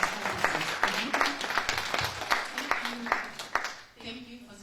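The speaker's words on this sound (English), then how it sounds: "So please give a warm round of applause for Jankin Jai." An audience at a diaspora investment forum claps in a warm round of applause, a moderate burst of many hands that fades after a few seconds, with a voice speaking over it.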